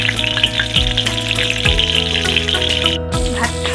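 Chicken leg pieces fry in a pan with a loud, continuous sizzle and crackle. Low thumps and stirring noises sound now and then beneath it.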